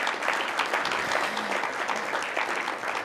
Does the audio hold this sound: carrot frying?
no